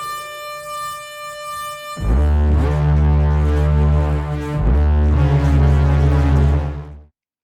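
A deep, brassy trailer-style synthesizer lead blares in two long sustained notes, loud and heavy like a foghorn, after a quieter tonal intro.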